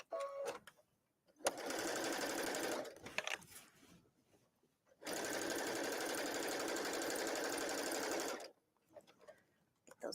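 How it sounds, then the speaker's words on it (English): Bursts of a sewing machine stitching a fabric basket insert, two long steady whirring runs separated by pauses with handling noises, loud and close. "we'll stitch to the left"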